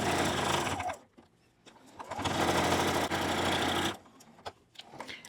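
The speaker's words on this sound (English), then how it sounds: "I'll just leave that opening and back stitch to finish it off." A sewing machine stitches a thin quilted mug rug, whirring steadily in two loud runs separated by short pauses, with small clicks and handling noises between bursts.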